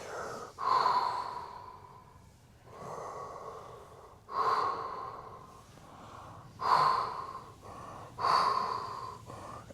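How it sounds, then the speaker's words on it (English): Slow, rhythmic breaths during a stretching routine with a six-foot staff, each loud inhale and exhale coming every two to three seconds in a steady cycle. The breathing is close and clear with no talking. "Cycled breathing, so you're breathing throughout."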